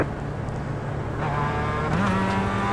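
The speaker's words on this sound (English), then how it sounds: "I downshifted just because I had to slow down, wanted that better acceleration." A race car in the iRacing sim racing game drops a gear to slow down, its engine note climbing sharply with a rising whine over a steady loud drone, no talk.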